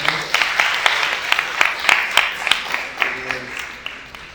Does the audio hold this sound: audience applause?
yes